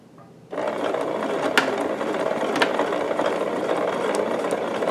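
A domestic sewing machine without a walking foot backstitches a few stitches on a quilted potholder, starting abruptly after a short quiet moment and then running as a steady, fast mechanical whirr with rapid ticking close by.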